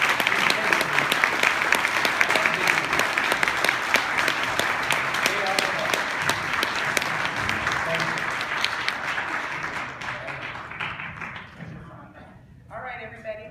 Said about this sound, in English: Please give them a loud applause for their honesty.